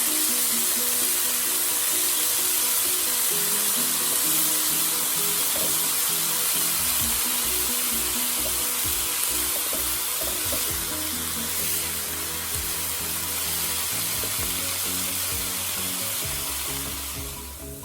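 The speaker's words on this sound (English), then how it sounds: "Add in the radish greens and give that a quick stir." Radish greens hiss and sizzle loudly in a hot pan as they are stir-fried, with the frying noise steady and close and quieter scrapes of stirring underneath, and no voices.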